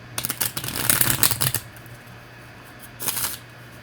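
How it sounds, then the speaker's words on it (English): Tarot cards being shuffled by hand, crisp riffling bursts of card edges in two rapid flurries separated by a quieter pause, close and clear with no talking. "please shuffle properly"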